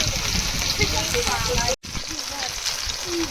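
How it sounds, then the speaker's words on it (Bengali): Fish frying in oil in a wok, a steady broadband sizzle that runs throughout, with one brief dropout partway through. "কড়াইতে মাছ ভাজতে দিয়ে দিয়েছি"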